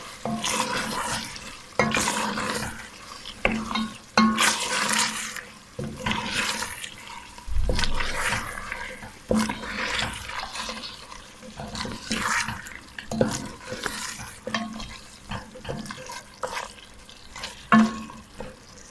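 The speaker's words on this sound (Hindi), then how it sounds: "तो अब हम इसमें डाल देते हैं टमाटर जो हमने एक रखा हुआ था और इसको थोड़ा सा भून लेते हैं टमाटर के साथ" Tomatoes frying together with mutton pieces, stirred in rhythmic scraping sweeps over a wet, bubbling sizzle, close and fairly loud, with no talking throughout.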